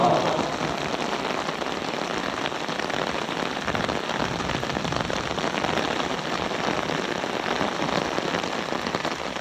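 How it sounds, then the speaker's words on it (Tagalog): Steady rain pours onto surfaces during a stop in Thailand, a continuous, even hiss of drops close by with no break and no voices. "Kaya lang kasi umuulan eh."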